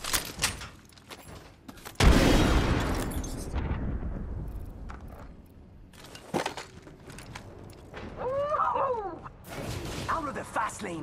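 A frag grenade detonates in Apex Legends with one loud, sudden blast that trails off into a long rumble, followed by further gunfire and game effects.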